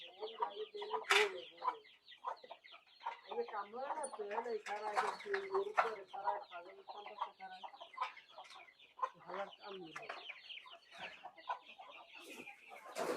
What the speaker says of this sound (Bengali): এটা কি কামফং মুরগা নাকি? হচ্ছে সব কামফং আর কি, মালয়েশিয়ার দেশি মুরগা।